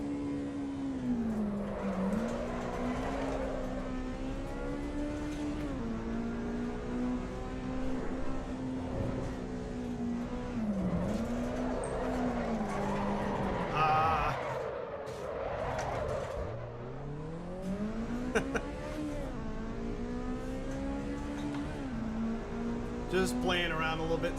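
In Assetto Corsa EVO, a race car drifts with the handbrake, its engine revving and wavering as tires squeal and skid continuously, loud and close throughout.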